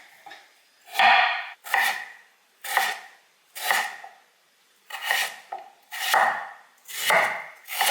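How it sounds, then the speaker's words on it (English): Potatoes are chopped into wedges on a cutting board with a knife, eight crisp, evenly spaced cuts about a second apart, close and clear with no talking. "now we just need to chop up the potatoes"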